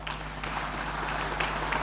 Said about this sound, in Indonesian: Agak tepuk tangannya agak pelit, jadi mesti komando juga gitu